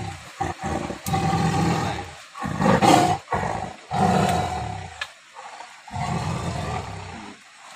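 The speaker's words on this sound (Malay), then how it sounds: "Harimau yang makan ternak masyarakat di Lok Bengkuang." A captured Sumatran tiger that had been killing villagers' livestock in South Aceh gives repeated loud, close, rasping roars and growls in bursts separated by short pauses.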